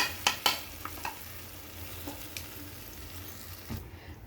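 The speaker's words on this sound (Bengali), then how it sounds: "সম্পূর্ণ ব্যাটারটা আমি দিয়ে দিলাম" Batter cooking in a hot pan, a soft continuous sizzle with several sharp clacks of a utensil near the start and one near the end, close and without talk.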